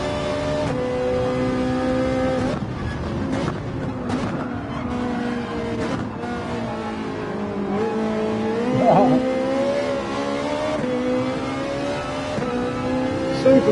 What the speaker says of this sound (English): I should turn the engine revs down